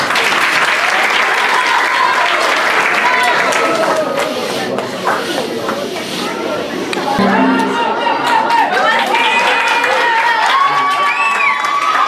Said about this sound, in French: Veuillez l'applaudir chaleureusement.